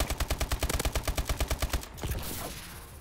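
The ASM1 rattles off a rapid, evenly spaced burst in Call of Duty Advanced Warfare, loud and close, then cuts off into a short trailing echo and game ambience.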